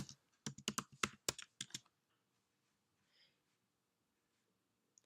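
Quick, close keystrokes on a computer keyboard as a network password is typed: a dense burst of about a dozen clicks in under two seconds, then near silence with one faint click at the end.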